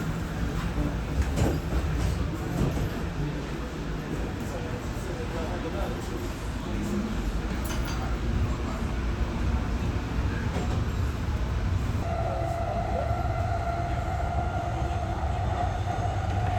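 A DART Red Line train in Dallas rumbles steadily on the rails, a continuous loud interior roar with faint clatter, and people talk under the noise.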